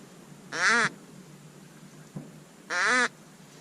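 Two loud, nasal duck quacks ring out about two seconds apart, with a faint short click between them against a quiet background.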